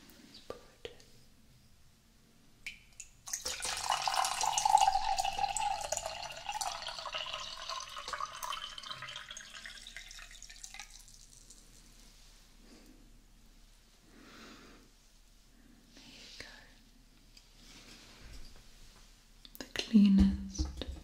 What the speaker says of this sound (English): It is the cleanest, purest of water taken